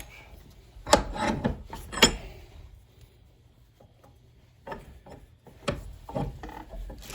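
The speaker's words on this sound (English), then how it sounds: "I just prefer to do it with the rasp" A rasp shapes a hickory knife handle in short, sharp, scraping strokes, a pair of loud rasps, a lull, then a burst of quicker strokes, close and alone.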